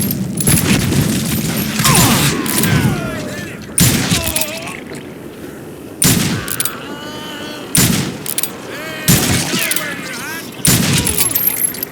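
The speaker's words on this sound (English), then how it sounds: "Kid Curry opened up on me with a goddamn Gatling gun" A Gatling gun fires in the Western video game Call of Juarez in several loud, heavy bursts separated by short gaps, with voices talking in between.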